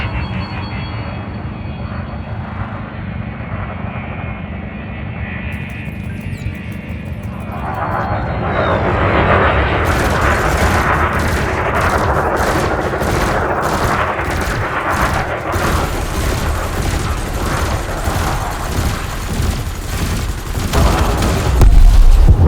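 Ship weapons, including gimballed multi-cannons, fire in a space combat training scenario in the video game Elite Dangerous, with bursts of gunfire over steady engine rumble and a voice speaking throughout.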